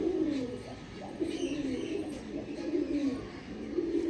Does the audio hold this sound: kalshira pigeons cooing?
yes